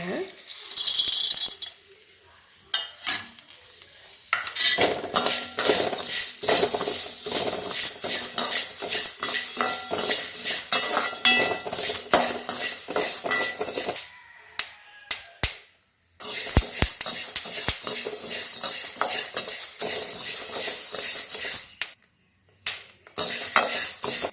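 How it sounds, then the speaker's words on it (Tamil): Dry horse gram and black pepper roasting and stirred in a pan, a loud, steady rattle of hard seeds scraping and tumbling against metal, broken by a few short pauses. "இந்த கொள்ளு வந்து வறுக்கும் பொழுது இந்த மிளகை போட்டுடலாங்க"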